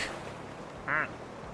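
A single short, nasal duck quack from the video game Final Fantasy XIV, clear and close over quiet background noise.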